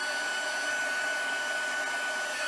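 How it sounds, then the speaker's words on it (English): Heat tool blowing hot air onto a chalkboard-style card, a steady airy whoosh with a thin whine, constant and fairly close. "And now I'm going to turn on my heat tool and I'm going to let it warm up."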